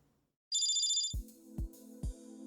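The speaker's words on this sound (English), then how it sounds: "Then someone's phone rang." A phone ringtone in the video game Steins;Gate 0: a bright electronic warbling tone, then a repeated chiming ring pulsing three times at a steady rhythm, loud and close with no talking.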